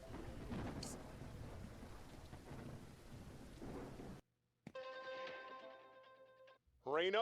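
Rain pours steadily with rumbling thunder in the DrainSim video game, a dense roar for about four seconds before cutting out, followed by a brief quieter stretch of tonal game sounds.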